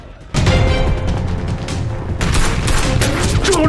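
Dense gunfire erupts in an action movie scene, a loud rapid barrage of shots and booms that starts abruptly after a brief quiet moment and continues without pause.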